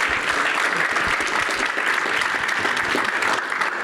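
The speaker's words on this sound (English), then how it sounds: "let's give a big round of applause for a fantastic trio" Audience applause at an education summit session, a steady wash of many hands clapping continuously at moderate volume, with no break or voices standing out.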